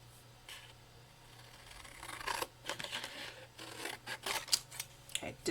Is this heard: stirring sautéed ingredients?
no